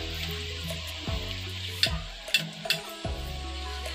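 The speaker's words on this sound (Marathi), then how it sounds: "मी आता ही व्यवस्थित मी चमच्याने स्मॅश करणार आहे" A spoon mashes cooked cauliflower, potato and peas for pav bhaji in a pan, with repeated clacks and scrapes against the metal over a low background hum.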